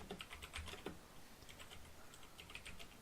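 Quiet, fairly fast clicking of keys on a computer keyboard, an irregular patter of individual keystrokes heard faintly against a soft background hiss, with no talking.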